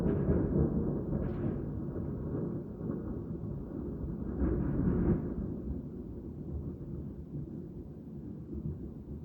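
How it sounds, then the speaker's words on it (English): A long, deep rumble of thunder rolls from a storm outside, swelling and fading over several seconds as a loud low roar with no voices. "So there's a storm going on outside, and that thunder lasted like at least 10 seconds."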